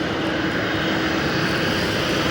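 An Aer Lingus jet airliner passes at Chicago's O'Hare Airport at sunset, a loud, steady, broadband engine roar that holds throughout with no talking.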